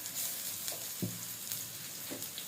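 Eggplant sautéing in a pan with salt and turmeric for kathirikka thokku: a steady close sizzle with a few soft scraping stirs, no voices.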